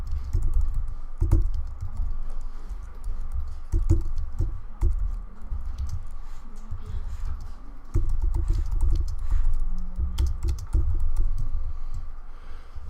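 Steady typing on a computer keyboard entering text in Adobe Illustrator, close rapid key clicks in bursts with short pauses between them, with no talk.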